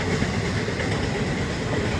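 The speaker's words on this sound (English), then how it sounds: "Normal size train, not a giant train by standards of late, but good sized train, a normal sized train," A normal-sized freight train rolls steadily past on the rails, a loud, continuous rumble with clickety-clack close by and no voices.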